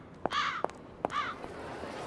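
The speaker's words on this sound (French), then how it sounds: "lâche des corbeaux pour recréer une ambiance de film d'épouvante" Crows released into a dark alley to create a horror-film mood give a few harsh caws, close and fairly loud, with sharp clicks between the calls over a quiet background.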